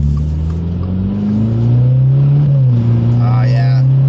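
A Subaru WRX GT engine in Sport Sharp mode revs steadily higher over about four seconds, holding the gear longer before a brief dip near the end, heard loud and close from inside the cabin with faint talk.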